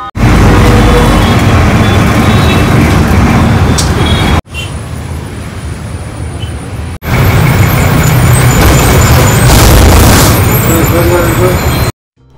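City road traffic heard from inside a moving bus: loud, dense engine rumble and road noise with a brief quieter stretch midway, voices talking over it.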